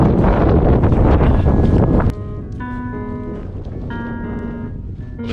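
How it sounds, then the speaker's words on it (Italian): Heavy wind buffeting the microphone at a cave in Iceland, loud and rumbling at first, then easing into a steadier gusty roar with faint tonal whistling. "Naturalmente c'è un po' di vento."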